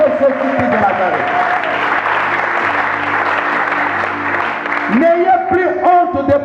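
A church congregation claps through a worship service, with steady dense applause running the whole time beneath a preacher's voice and some musical tones, swelling again near the end.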